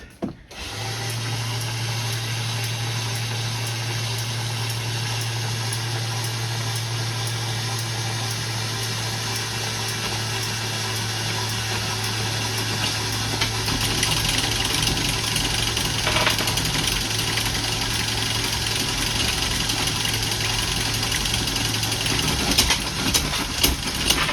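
A repaired anchor windlass on a Contessa 26 sailboat runs steadily, a loud continuous motor whine with a low hum for over twenty seconds and no talking.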